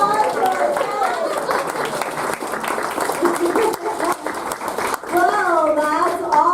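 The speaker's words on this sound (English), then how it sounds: "Can we get another round of applause for ourselves?" Audience applause after a stage performance by a children's theater group, clapping mixed with children's voices and chatter, moderately loud and continuous.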